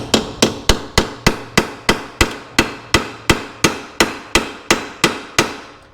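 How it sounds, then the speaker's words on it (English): Steady metallic hammer taps on a socket onto a bolt of a 2013 Dodge Dart, about fifteen evenly spaced sharp strikes, loud and close with a short ring after each. "I'm going to tap with a hammer."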